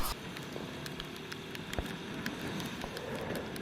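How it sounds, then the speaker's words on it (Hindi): Heavy rain drumming steadily during a motorcycle ride on the road from Delhi toward Shimla and Narkanda, a dense constant hiss with scattered sharp drop impacts and wind noise, no talking. "ये देखो जी झमाझम बारिश"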